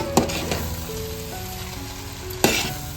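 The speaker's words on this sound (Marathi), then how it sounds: "खालचे ते ग्रेव्ही व्यवस्थित मिक्स करतोय बघा" Veg biryani being stirred and mixed with gravy in a pot over heat, a steady sizzle with a couple of sharp scraping stir strokes near the start and end, close and alone.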